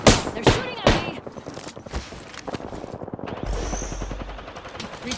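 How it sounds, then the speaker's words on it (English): Rapid automatic gunfire rings out in the Apex Legends battle royale game on the Broken Moon map, loud close bursts of shots with dense rattling, followed by lower rumbling effects as a player talks over it. "They're shooting at me."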